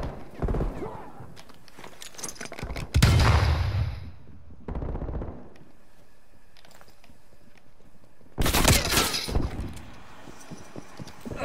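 Sentry turret gunfire in a video game, several separate loud bursts of shooting with quieter gaps between them, close and harsh, without voices.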